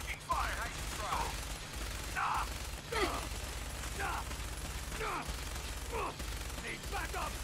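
Gunfire in the video game Fallout 4 during a firefight: repeated bursts of shots at a steady rhythm under a constant low hum, with a player's voice heard now and then.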